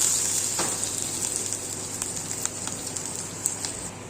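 Asafoetida, green and dried chillies, a bay leaf and chopped garlic sizzle in hot oil for a bottle gourd muthiya tempering, a steady close hiss with small crackling pops throughout.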